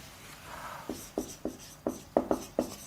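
Handwriting on a surface gives a run of short scratchy pen strokes in a steady rhythm, about eight distinct marks close up, no speech.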